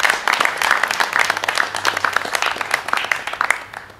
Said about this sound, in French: Elle mérite vraiment nos applaudissements.